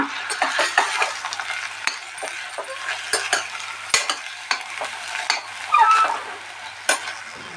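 Sprout sambar masala is stirred in a pan, and a spoon scrapes and knocks against the metal in irregular strokes over a soft frying hiss, close and fairly loud.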